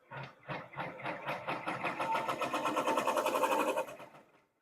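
An embroidery machine stitching a chunky pumpkin mug rug, a rapid rhythmic mechanical chatter that speeds into a steady close whir for about four seconds before stopping.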